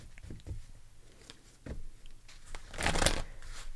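Tarot cards are shuffled in several short bursts of riffling and sliding, close and soft at first, ending in a louder, denser flutter, with no talking.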